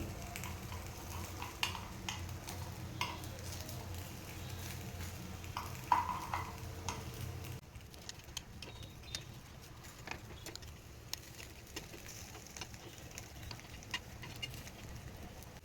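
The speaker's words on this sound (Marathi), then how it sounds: "त्यानंतर आप्पे दुसऱ्या बाजूने पलटून घ्यायचं आहे।" Sooji appe fry in an appe pan as they are turned over, a soft sizzle running under scattered light clicks and taps of a utensil against the pan, louder in the first half and quieter afterward.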